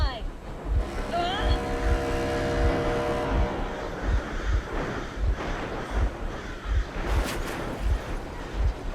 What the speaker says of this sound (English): Stop the engine immediately and come out with your hands above your head.